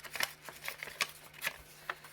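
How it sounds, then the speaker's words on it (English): Paper is torn along the side of a notepad in a run of quick, faint ripping bursts close by. "I'm going to rip up the side here"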